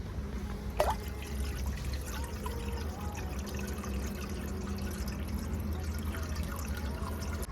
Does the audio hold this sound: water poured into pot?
yes